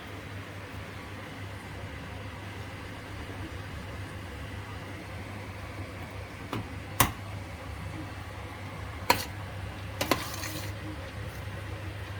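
Fried rice being stirred in a pan over low heat, with a steady low hum and faint scraping, broken by a few sharp clinks of the utensil against the pan.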